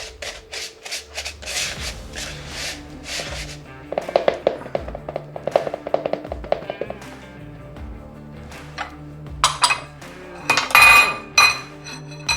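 Brown sugar and pie crust crumbs being whisked in a bowl, a rapid run of rhythmic metallic scrapes and taps up close, followed by louder clattering knocks as the whisk strikes the bowl's rim.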